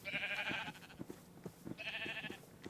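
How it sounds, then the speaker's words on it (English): A Minecraft sheep gives two quiet, wavering bleats, one at the start and one near the end, over a faint background with light tapping. "Sheep, sheep."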